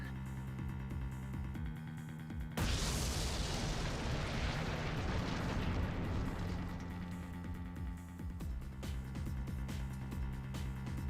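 A bomb goes off in the Phoenix Wright: Ace Attorney – Dual Destinies video game: a sudden loud blast cuts in after a quiet stretch, then a roaring rumble slowly fades over several seconds into a steady background tone.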